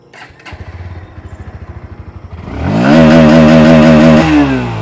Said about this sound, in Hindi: आइए अब सुनते हैं NS160 का साउंड।